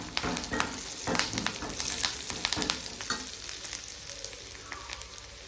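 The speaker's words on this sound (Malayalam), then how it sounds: "അപ്പോൾ ഇത് നന്നായി മൂത്ത് വരുമ്പോൾ നമുക്ക് കുറച്ച് കറിവേപ്പില ചേർത്ത് കൊടുക്കാം കേട്ടോ" Curry leaves hit a hot frying pan and sizzle and crackle loudly up close, with stirring scrapes. The spatter fades to a softer, steady fry toward the end.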